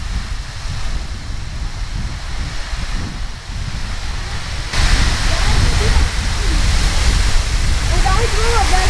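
Khandadhar waterfall in Keonjhar, Odisha, roaring in the monsoon: a loud, steady broadband rush of falling water that grows louder partway through, with faint bird calls over it near the end.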